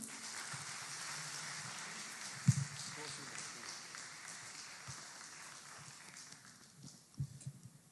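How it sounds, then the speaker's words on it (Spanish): Church congregation applauding a pastor, a steady spread of hand claps filling the room at moderate level, with a few louder thumps and a slight fade toward the end. "le damos otro aplauso fuerte al pastor."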